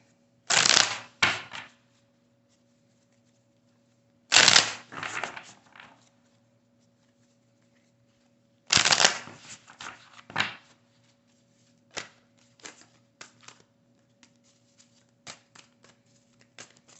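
A deck of tarot cards is shuffled by hand in three quick riffling bursts a few seconds apart, followed by lighter taps and card handling, close up and without talk.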